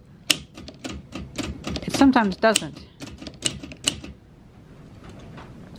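Keys clack on a 1950s Deluxe Olympia manual typewriter, with a run of sharp, irregular strikes that are loud and close and then trail off, while a person speaks over the typing.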